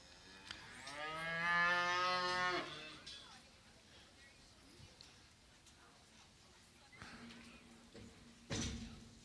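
A Shorthorn heifer in a show ring gives one long, loud moo early on, followed by quieter arena background noise and a faint distant call near the end.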